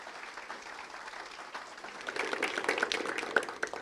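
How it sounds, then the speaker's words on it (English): An audience in a church gathering breaks into applause, the clapping starting soft and scattered and then swelling into a fuller, denser round of many hands. "shall we give these ladies an amazing round of applause?"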